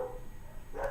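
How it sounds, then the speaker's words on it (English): Dogs bark at a delivery driver, a single faint, muffled bark heard from a distance indoors near the end of a short, quiet moment. "my dogs are barking at the UPS man."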